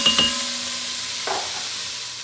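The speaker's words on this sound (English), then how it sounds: "That's sizzling." Leftover onions sauté in a pot for deer chili, giving a bright hiss and crackle that softens and fades, with a couple of stirring scrapes near the start.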